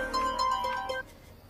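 A phone ringtone playing while a call is placed, a short bright melodic tone sequence lasting about a second before cutting off into quiet.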